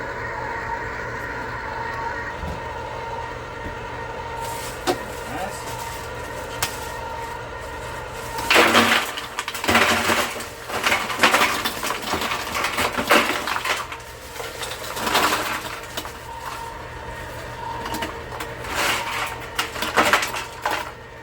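An ice cream maker churns mango ice cream while ice is dumped in around it. Steady mechanical whirring sits under loud clattering, rattling bursts of ice, close and uneven, with no talk.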